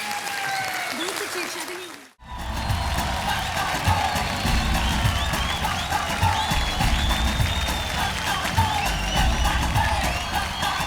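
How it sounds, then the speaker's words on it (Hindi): A large studio audience bursts into loud, sustained applause with cheers and whoops on a Hindi TV game show after a brief quiet gap, while voices carry over the clapping. "तालियां!"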